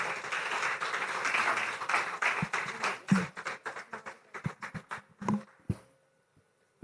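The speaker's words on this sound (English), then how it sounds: "A round of applause for her, please" Applause at a sustainable finance summit welcoming a speaker, heard as scattered, fairly faint claps that thin out into a few separate claps before falling silent.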